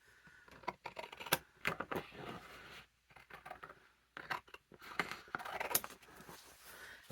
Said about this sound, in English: I recommend a good pair of straight scissors for this